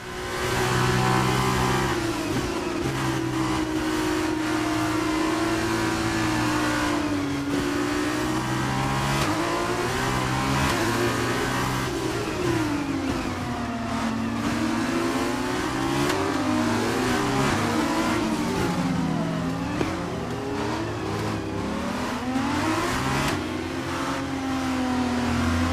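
A Formula 2 race car in F1 22 on the Monte-Carlo street circuit, its engine loud and close, revving hard and continuously with rising and falling pitch through gear shifts and corners.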